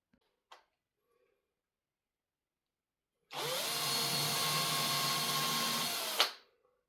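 A power drill whirs steadily for about three seconds after a faint tap, close and loud, piloting a hole into plasterboard, then spins down abruptly.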